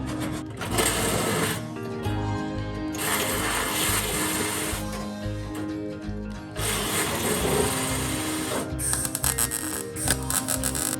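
Welding on the inner body structure of a VW Bus during restoration, with harsh, loud buzzing crackle in long bursts broken by short pauses, close by.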